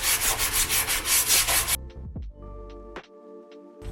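Sandpaper rubs by hand across a stained solid wood dresser in rapid rhythmic back-and-forth strokes, loud and close, stopping after about two seconds and leaving a few faint knocks and handling noises.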